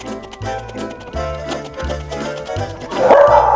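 A dog barks repeatedly in sharp, close yips, the barks coming in a quick irregular series and growing more agitated toward the end.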